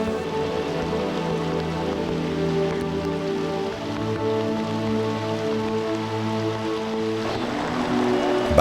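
Steady rain falls in the Ethiopian mountains near the source of the Blue Nile, a continuous close patter of drops with a low hum running underneath throughout.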